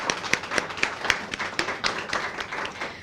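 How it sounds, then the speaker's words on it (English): Applause at a city social services grand opening ceremony, a modest scattering of hands clapping with distinct individual claps standing out, fairly near and without speech over it. "Everyone give them a round of applause."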